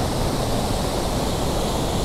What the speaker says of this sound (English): I'm right up beside the waterfall.